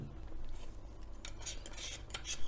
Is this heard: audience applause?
no